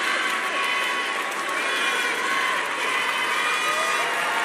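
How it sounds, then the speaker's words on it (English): Steady crowd applause and cheering from fans in an arena as a Russian gymnast leaves the floor after a clubs and ribbon final at the 2019 Summer Universiade, a dense, continuous wash of clapping without a break. "she gets quite an applause, particularly from the Russian fans, as she departs the field of play"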